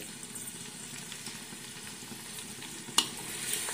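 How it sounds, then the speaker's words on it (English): Food frying in a pan while cooking jollof spaghetti: a soft, steady sizzle with faint crackle, then one sharp clink near the end, fairly quiet, with no talk. "I'll fry it until I get that golden brown before I'll remove it."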